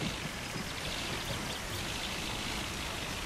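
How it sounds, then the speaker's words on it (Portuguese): Rain falls in the driving game My Summer Car as a steady, dense hiss with soft pattering, constant and even, with no voices. "O barulho da chuva tá me agradando mais do que na final, velho."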